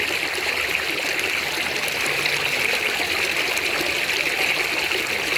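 Tap water runs in a steady, hissing stream, close and continuous, with no voices or pauses.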